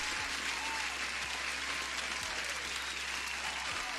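A canned applause sound effect, steady dense clapping from a crowd that stays at an even level throughout, with no talking over it.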